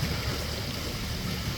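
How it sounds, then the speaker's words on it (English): Flowing water from a garden ecosystem pond, a stream running down and spilling into an upper pond fed by waterfalls, makes a steady broadband rush with low churning, continuous and moderately close, with no voices. "Water then comes down through a stream all in this area, and it dumps into a upper pond."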